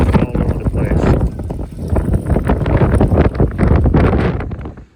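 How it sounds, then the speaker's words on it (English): Wind blows outdoors on a windy, rainy day, a loud, buffeting rumble that gusts against the microphone, rising and falling throughout before easing off at the end. "it's kind of a windy, rainy day"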